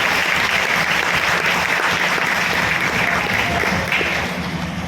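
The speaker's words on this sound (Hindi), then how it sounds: "एक जोरदार ताली अपने लिए।" A seminar audience applauds loudly and steadily for about five seconds, a dense roar of clapping that fades slightly toward the end.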